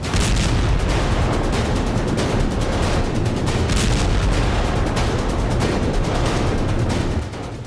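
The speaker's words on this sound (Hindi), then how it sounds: "खेरसोन में यूक्रेन ने रूसी सेना पर रॉकेट से जबरदस्त प्रहार किया।" Rocket strikes and explosions in wartime Kherson arrive as a dense, continuous barrage of loud booms and rumbling blasts, with heavy low-end thunder that eases off near the end.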